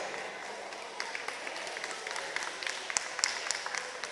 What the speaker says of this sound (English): Give them an applaud also.